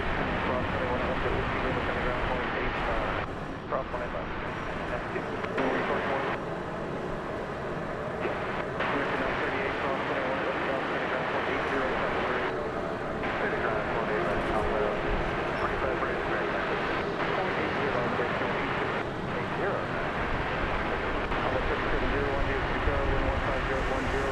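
An airliner takes off from DFW Airport after dark, bound on one of its longest routes. A loud, steady jet roar fills the whole stretch, with little change in level.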